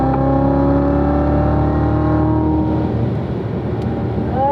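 A car on a top speed run at Spring Mountain accelerating hard, its engine note climbing steadily through a gear, then easing off and picking up again, loud and close, with no talking.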